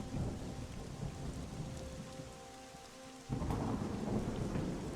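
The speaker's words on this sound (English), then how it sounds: "And this thunder is so loud" Heavy rain pours steadily while deep thunder rumbles loudly and continuously, dipping slightly before surging again in a fresh roll near the end.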